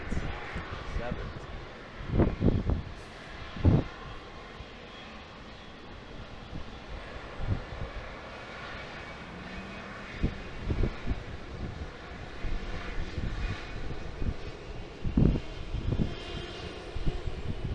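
Jet airliners at Toronto Pearson airport, a steady distant engine roar with wind buffeting, while people talk nearby and a few louder thumps break through.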